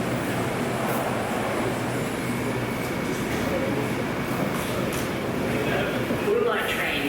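A Blue Line airport train rumbles along with a continuous roar of wheels and carriage noise, loud and close from inside the car, with voices talking over it.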